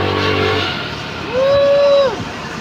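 A motorcycle nicknamed Red is ridden; its engine hums and then revs up in a clear rising and falling whine before settling back, heard close and fairly loud.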